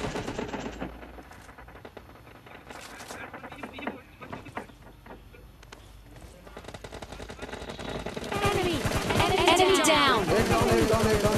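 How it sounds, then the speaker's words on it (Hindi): SCAR-L assault rifle fire in PUBG Lite, rapid automatic bursts that crackle throughout and grow louder and denser toward the end, with a voice talking over the shooting. "ये स्कैरल तो टट्टी गन है यार, पिचकारी गन बोलते ना इसे"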